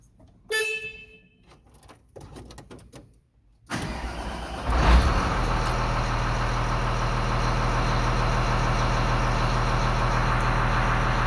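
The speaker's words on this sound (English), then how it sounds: "I'm going to start the engine up and we're going to see what we've got on our two gauges." Diesel engine of a motor grader fitted with a Rexroth pump cranks for a few seconds after some clicks and clatter, catches with a surge, then settles into a steady, loud, even idle.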